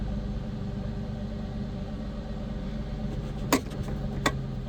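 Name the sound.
Mustang V6 engine revs dropping after unplugging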